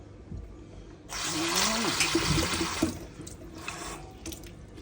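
Water pours into a cup while roasting peanuts at home, a loud splashing gush for about two seconds, then a softer trickle, with a voice speaking over it.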